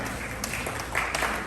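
Audience applause at a Will County Republicans dinner for Illinois gubernatorial candidates, a steady wash of clapping throughout the short stretch with a few louder bursts near the end.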